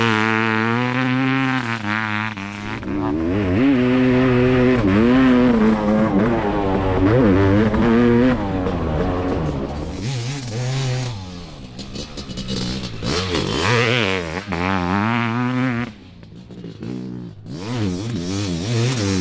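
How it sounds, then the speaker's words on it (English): A Tomasin T500 500cc two-stroke motocross bike rides a track, its high buzzing engine revving and rising in repeated surges and dropping between gear changes, loud and close throughout. "Sit back and listen to the bike in action."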